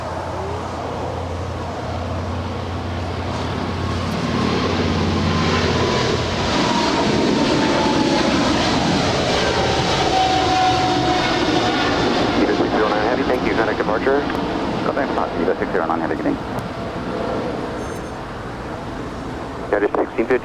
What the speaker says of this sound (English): We do have the EVA Air Cargo 777 now rolling down 25 left